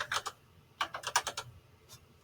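Quick bursts of keyboard typing, two short clusters of clicky keystrokes separated by a pause, close and fairly quiet.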